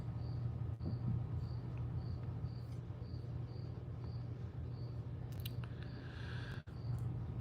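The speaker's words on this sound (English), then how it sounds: "I can hear a cricket in the background and it's driving me absolutely crazy" A cricket chirps in a garage, regular faint pulses repeating about twice a second over a low steady hum, with a couple of soft clicks and a brief thump along the way.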